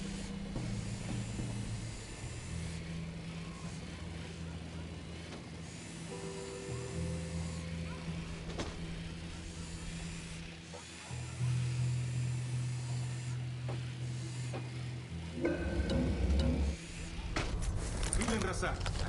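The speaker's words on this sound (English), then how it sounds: "Unidad chopper, stay low." A helicopter in the video game Ghost Recon Wildlands flies throughout with a continuous rotor drone and whine, shifting in pitch, under game voices and other sounds.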